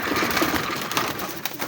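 A Bambu male pigeon coos on a rooftop loft, with short low calls near the microphone over a busy, noisy background.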